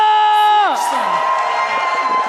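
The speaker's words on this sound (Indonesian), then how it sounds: "Para tepuk tangan aja!" Crowd cheering and applauding at the MPL Indonesia esports arena during a Team Liquid ID versus Bigetron Alpha match, a loud roar that swells in after a falling synth sting and holds steady.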